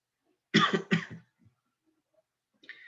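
Two quick coughs in close succession, near and fairly loud, followed by near silence and a faint rustle at the end.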